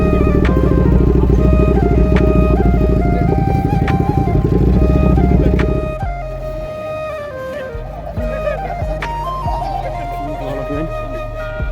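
Motorcycle engines at a bike meetup in Siliguri, India rumble loudly and continuously over music, the deep idling drone dropping away partway through while other engines keep running nearby.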